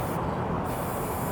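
Continuous hiss of a spray paint can firing blue paint onto a mural wall, close and steady, with a short dip in brightness partway through.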